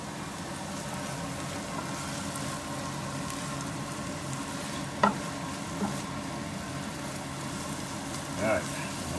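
Chicken spinach pasta with garlic sizzling and frying steadily in a skillet, a soft continuous crackle with a couple of brief clinks of a utensil against the pan.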